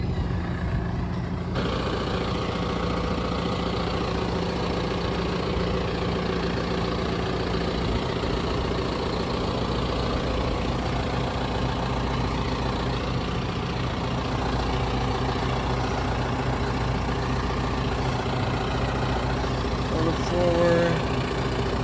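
Tractor engine idling steadily and loud while it lowers a 1,000-gallon fiberglass tank into a hole, with a constant low rumble and little change over time.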